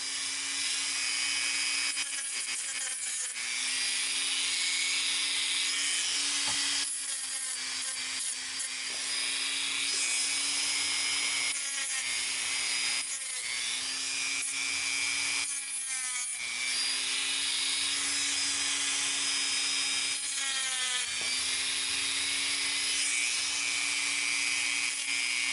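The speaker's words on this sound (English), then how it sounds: "Sand that edge to get any burrs off." A coin's edge sanded to remove burrs while an arrowhead is being made, repeated rasping strokes in bursts over a steady electric motor whine, close and continuous, with no speech.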